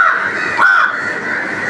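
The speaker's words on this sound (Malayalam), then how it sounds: "കാക്കകളൊക്കെ പലയിടത്തും ഇരുന്ന് കരയുന്നുണ്ട്" A crow caws loudly and close by outdoors, one drawn-out harsh call with a rising swell in the middle, heard alone against quiet surroundings.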